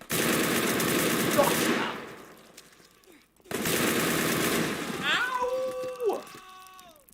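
Bursts of automatic gunfire in a chaotic shooter video game, loud and sustained in two long volleys separated by a brief pause, with a short shouted voice and rising electronic tones near the end.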